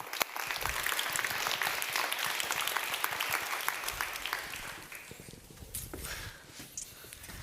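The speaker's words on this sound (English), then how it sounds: "Round of applause." Conference audience applauding across the room, a dense, steady patter of many hands clapping that holds for several seconds and then thins slightly toward the end, with no talk over it.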